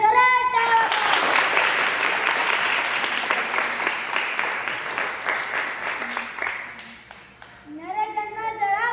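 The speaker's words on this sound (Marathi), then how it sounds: "त्यांच्यासाठी एकदा जोरात टाळ्या वाजवा." A gathered audience applauds a singer at a devotional kirtan, with steady, dense clapping that gradually thins out before a voice comes in over the last moments.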